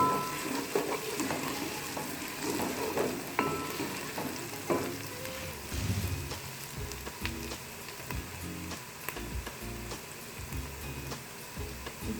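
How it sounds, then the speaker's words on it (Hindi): Ginger paste and garlic paste frying in a pan for Lahori chickpeas, giving a steady close sizzle with crackles and occasional stirring scrapes throughout, no voices. "एक चम्मच लहसुन का पेस्ट और इसको फ्राई करें।"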